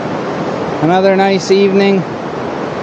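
Pacific Ocean surf at Long Beach near Tofino, British Columbia, on an evening beach: a constant, fairly loud wash of waves, with a person speaking briefly over it.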